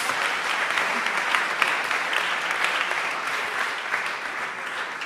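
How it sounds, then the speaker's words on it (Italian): An audience at a literary club talk with a guest writer applauds, a dense, even wash of clapping that holds steady for several seconds at moderate volume, with no talking over it. "anzi un applauso a John Savage"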